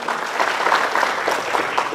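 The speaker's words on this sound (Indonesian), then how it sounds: "Nunas tepuk tangan majang Mbok Wayan Karti dumun" A studio audience applauds a singer on a Balinese quiz show, a short burst of dense, even clapping that stays steady and close for about two seconds.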